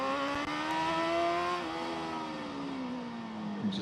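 Racing motorcycle engine at the Macau Grand Prix on a tight, twisty street circuit, a steady high-pitched drone held without gear changes, pitch sliding gently as the rider works the throttle, loud and close throughout.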